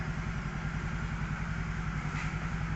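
A Yamaha Mio GT 2014 motor scooter, recently repaired for smoking, power loss and stalling, runs steadily at idle nearby, its low engine note pulsing evenly throughout with no talk.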